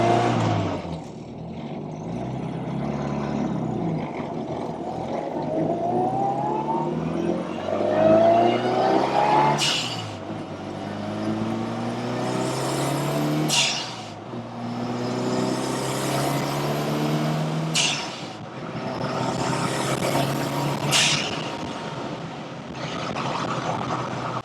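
A turbocharged Mini driven hard, its engine revving up through the gears with rising pitch, several gear changes and brief drops between pulls, heard close from inside the car and with no talk.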